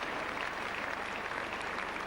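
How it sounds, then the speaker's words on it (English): Sympathetic applause from a rugby league crowd at St Helens versus Halifax, a steady dense wash of clapping filling the whole stretch without pause, moderately loud and distant-sounding, with no voices on top. "round of applause"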